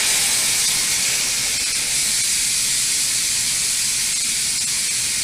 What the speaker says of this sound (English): That is releasing the pressure in our pressure cooker